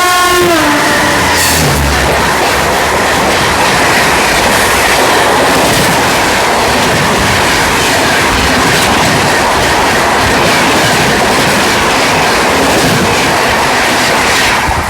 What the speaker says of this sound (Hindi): तो सामने से आ रही है ललित ग्राम पटना राजरानी एक्सप्रेस, वो भी WAG-12 लोकोमोटिव के साथ